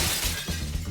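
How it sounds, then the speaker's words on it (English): Thin antique glass shatters as a fast-moving needle strikes it, a sudden close crash with a broad, gritty burst that fills the whole second. "So at this point, it doesn't go through, it just smashes the glass"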